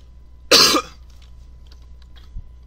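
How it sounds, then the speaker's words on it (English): A man playing a computer game gives one loud, close cough, about half a second long, alone with no talk, followed by near silence and a faint low thump. "it turns out when I talk, my cough gets worse"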